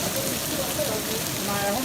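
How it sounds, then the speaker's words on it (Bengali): Heavy rain falls steadily outdoors in Italy, a dense continuous patter close to the microphone, with faint tonal background sounds threading through it. "বৃষ্টিও পড়তেছে কিন্তু প্রচুর"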